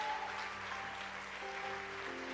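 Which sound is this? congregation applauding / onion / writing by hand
congregation applauding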